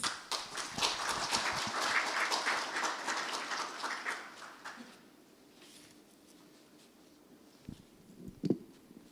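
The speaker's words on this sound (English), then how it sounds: "please welcome her with a warm round of applause" An audience at a STEPI international symposium applauds a speaker as she is welcomed: a dense patter of clapping for about five seconds, then fading to a quiet room with a few stray knocks.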